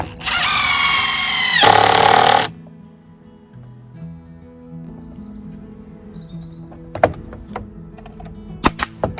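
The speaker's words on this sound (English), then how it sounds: "I'll sink some screws in." Power drill-driver sinking screws into wood for a handmade Halloween graveyard cross: one loud, steady buzzing run of about two seconds, then quieter low hum and scattered knocks and clicks of handling.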